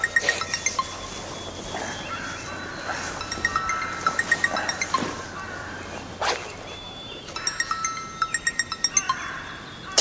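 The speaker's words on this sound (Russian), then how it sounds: "Как настойчиво звонят." A phone rings insistently in repeated bursts of a bright electronic tone, separated by short pauses, with faint knocks and room sounds in between.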